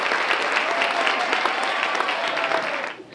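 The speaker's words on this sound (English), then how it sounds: "Let's give them a round of applause." An audience at a school holiday concert claps for the band after its performance of a carol. The dense, bright applause holds steady for about three seconds, then trails off abruptly.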